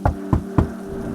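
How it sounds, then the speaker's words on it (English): Three evenly spaced knocks on a door in an animated story, sharp, close and distinct, over a low steady hum. "suddenly there was a knock on the door"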